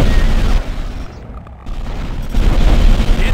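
Weapons fire in the Starship Troopers: Terran Ascendancy video game, loud booming bursts and rumbling blasts that briefly drop away mid-clip before resuming heavily.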